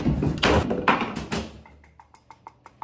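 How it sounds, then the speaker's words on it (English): Knuckles knocking on wood, a dense cluster of loud thumping raps followed by a trail of lighter, evenly spaced taps fading out, close and alone. "Step one, go find some wood to knock on."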